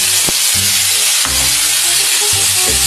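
Tomatoes, cheap ones from the market, drop into a hot pan and sizzle steadily, a loud continuous fry with a few stirring knocks and scrapes repeating through the moment.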